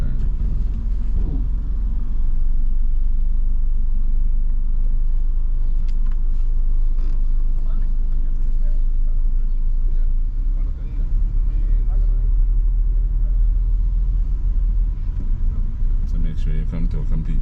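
A car rumbles low and steady during a Florida driving test, the engine and road noise constant beneath a close voice giving instructions, with small creaks and clicks from the cabin.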